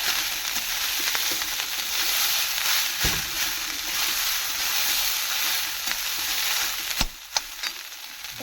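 Fried rice with potato and onion is stirred in a hot pan, giving a loud, continuous sizzle close by, punctuated by sharp spatula scrapes and knocks near the end, with no speech.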